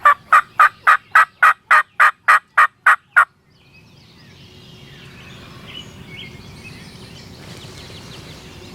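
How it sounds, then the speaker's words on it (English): A wild turkey gobbles in a wet spring field in Ohio, a rapid run of about ten loud, evenly spaced calls, followed by quiet outdoor ambience with faint distant bird sounds. "Gobbling like crazy."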